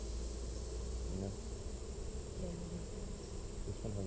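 Honey bees at an opened hive during an inspection, a steady dense buzzing drone that fills the whole clip at moderate loudness with a faint low murmur underneath.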